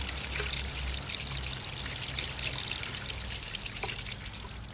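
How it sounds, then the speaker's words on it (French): Water poured steadily over a compost heap to keep it moist, a continuous close splashing pour with no voices. "on n'hésite pas à arroser un peu, toujours pour garder le milieu humide"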